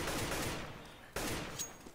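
Tap-fired rifle shots in CS:GO, a few sharp bursts close up with brief gaps between them, the strongest crack landing just past midway, followed by a faint metallic ping.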